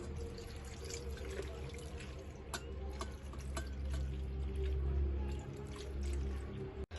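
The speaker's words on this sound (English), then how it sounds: "Now take some cold water and wash it." Cold water runs and splashes over freshly boiled, strained pasta in a kitchen, a steady close pour with soft dripping and gurgling throughout.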